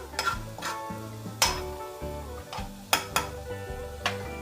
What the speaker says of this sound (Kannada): ಇದೆರಡು ಸ್ವಲ್ಪ ಫ್ರೈ ಆಗಲಿ.